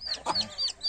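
Turkey chicks and a young rooster cluck close by, with repeated high, thin peeps over a few soft, throaty clucks in quick, uneven bursts.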